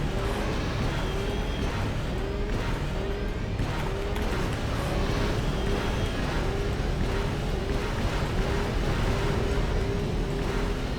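Swoop bike engine racing in Star Wars: KOTOR, a loud continuous roaring drone with a high whine repeatedly rising and falling as gears shift.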